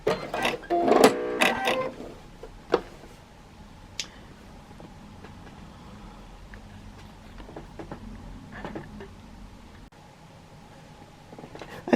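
A sewing machine stitches a simple quilting pattern on a jelly roll quilted tote bag, a loud rapid mechanical run in the first two seconds, then quiet ticks and handling noises afterward.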